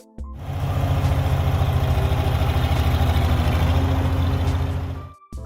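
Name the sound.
six-cylinder diesel tractor engine idling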